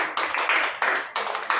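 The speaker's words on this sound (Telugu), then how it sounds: "కావాలనుకునే వాళ్ళు ఒకసారి చప్పట్లు కొట్టున్నాయి" A church congregation claps together in a series of sharp, loud, evenly spaced bursts, five or so rhythmic claps in a row with no voices over them.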